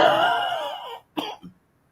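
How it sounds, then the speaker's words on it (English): A single hoarse cough, close and fairly loud, followed by a short second burst, then silence. "I think that was a cough."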